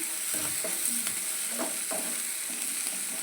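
Onions fry in a pan with salt for a prawn curry, giving a soft continuous sizzle with a few scraping stir strokes, close and moderately quiet, with no voices.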